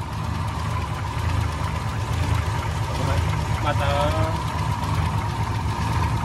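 A 1967 Willys Rural six-cylinder engine idles cold with a steady, loud low rumble and knock throughout, while a person talks briefly over it.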